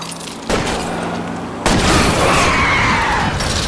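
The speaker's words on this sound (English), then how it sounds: "I'll try to shoot out his tires." Gunfire aimed at a fleeing car's tires in the video game L.A. Noire, a loud sustained barrage of booming shots over roaring engine noise, intensifying partway through with no talking.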